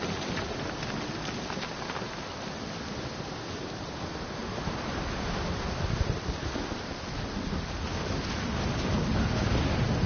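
Steady rain and rumbling thunderstorm ambience from a PS4 video game set on a mountain climb, a continuous dense wash of rainfall that swells slightly louder toward the end, with no speech.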